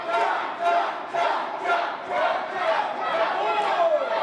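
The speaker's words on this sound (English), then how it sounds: "As this crowd trying to get behind Cha-Cha." A wrestling crowd at a live CCW title match in Port St. Lucie roars and chants in steady, surging waves that fill the whole clip with loud cheering.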